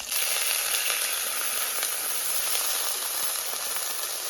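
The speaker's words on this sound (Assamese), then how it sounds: "এতিয়া মই ডাইৰেক্ট পানী দি দিম ইয়াতে একদম ভৰ্তিকৈ দি দিম" A loud, continuous steamy hiss as water is poured into a hot pan of chicken for momo filling and sizzles evenly, with faint crackles underneath and no voices.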